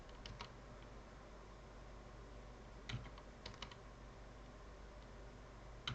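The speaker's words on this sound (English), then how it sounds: "Just clicking the right arrow key here to make it work, make it go to the next frame." Quiet, sparse key clicks as the right arrow key on a computer keyboard is tapped, a few single presses and short clusters spread over several seconds above a low steady room hum.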